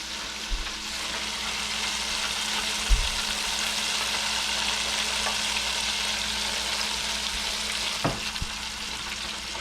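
Breaded fish fillets deep-fry in hot oil with a soft, steady crackling sizzle, fairly quiet and continuous, broken by a couple of low thumps.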